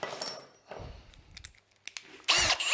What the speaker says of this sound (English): I'm just going to pre-drill this.